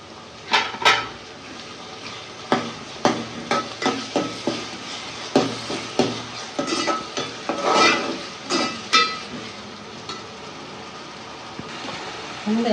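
Ground coconut, garlic and onion paste going into a pan for a crab curry, with a series of clattering utensil knocks and scrapes as it is stirred over a faint sizzle.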